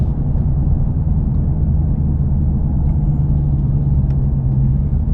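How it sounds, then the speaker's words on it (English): 2019 Dodge Challenger Hellcat Redeye V8 driving in traffic, a steady low engine rumble with a brief rise in revs as it blips on a downshift, heard from inside the cabin. "y'all hear that on the downshift, it has rev match"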